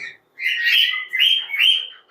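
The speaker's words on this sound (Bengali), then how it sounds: "এখানে কোনায় তিন জোড়া কোনোর পাখি আছে দেখেন" Several caged conure parrots give loud, harsh chirps in three bursts, close and alone with no talk.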